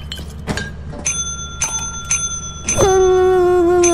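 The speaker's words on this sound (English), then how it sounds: "Go press the bell again." A bell in the Lethal Company video game is struck several times in quick, bright rings, ending in one louder, sustained ring that hangs over a low background hum.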